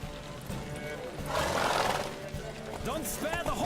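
Horse galloping with a whinny during a race in The Witcher 3, a steady rush of hoofbeats and movement building to a louder burst midway, with a short neigh near the end.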